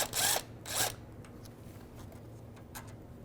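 A socket ratchet or power driver works a bolt off the AC condenser line of a Toyota RAV4, with two short whirring bursts up front followed by quiet, sparse clicks and ticks.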